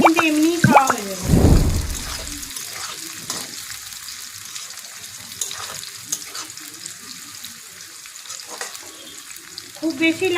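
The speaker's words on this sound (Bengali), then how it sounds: "একটু মিডিয়াম লাল করে ভেজে নেব।" Corn kernels fry in hot oil for a spicy chilli corn dish, sizzling and crackling steadily with occasional stirring and a brief louder scrape near the start, close and fairly loud.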